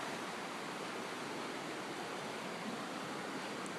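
A river flows with a steady, dense rush of water, constant and unbroken, heard up close and fairly loud with no voices.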